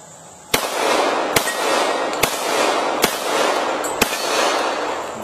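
A Glock 21 Gen 4 pistol in .45 caliber fires five sharp, loud shots at a slow, roughly even pace, each followed by a ringing echo outdoors, with no talk.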